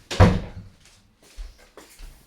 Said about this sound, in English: I close a little bit the door